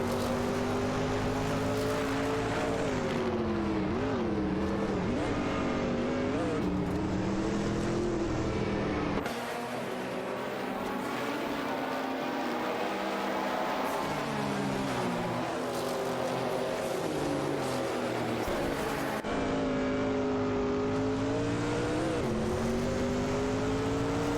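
Race cars in a video game race roar with sustained, loud engine tones that rise and fall through gear changes and revving, several cars overlapping throughout with no talk over them.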